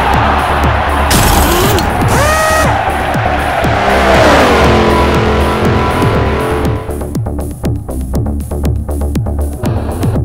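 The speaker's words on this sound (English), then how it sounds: "This is the biggest crash in RGL history. He's out of control and into the wall." V8 Supercars in Forza Motorsport 4 racing loudly, with a droning engine roar, tires squealing, a car crashing into the wall, and then engine noise continuing with ticking mechanical clatter.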